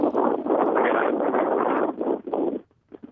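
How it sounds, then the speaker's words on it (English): Strong, gusting wind outdoors in Washington D.C. buffets the microphone with a loud, steady roar for over two seconds, then drops away abruptly into near quiet with a few short last gusts. "I'm getting quite a bit of wind in the background there. It's really windy."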